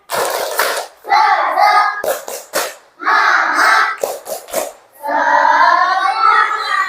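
Children in a classroom chant a rhythmic counting clap routine, sharp bursts of clapping in groups alternating with loud chanted voices, repeated in a steady pattern.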